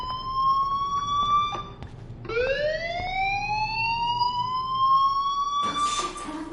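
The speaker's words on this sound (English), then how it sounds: "Hey, do you hear that fire alarm?" A school fire alarm in the video game Life is Strange wails in rising, sweeping tones, cutting out briefly and restarting, steady and loud, with a harsher burst near the end.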